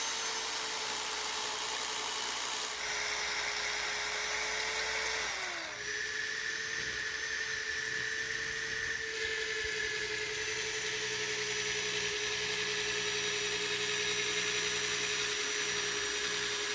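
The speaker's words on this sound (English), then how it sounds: "I'm going to drill all the holes to the rebar and get those fitted" A power drill bores holes in concrete formwork blocks for rebar while building a retaining wall, giving a continuous high whine whose pitch dips and shifts partway through, with steady grinding underneath.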